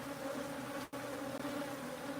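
Bees at a hive box hum in a dense, continuous drone of many insects, steady and fairly close, with one brief dip partway through.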